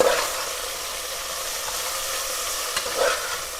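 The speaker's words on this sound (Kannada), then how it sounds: "ಕೊತ್ತಂಬರಿ ಸ್ವಲ್ಪ ಜಾಸ್ತಿ ಹಾಕಬೇಕು ಸೊ ನೀಟಾಗಿ ಇವಾಗ ಮಿಕ್ಸ್ ಮಾಡ್ಕೊಳ್ಳೋಣ" Coriander being stirred into mutton masala frying in oil for mutton chops, a steady close sizzle with spoon scrapes and stirring strokes near the start and again toward the end.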